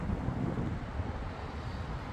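Wind buffets the microphone at a roller coaster construction site, a steady low rumble with gusty swells throughout and no voices.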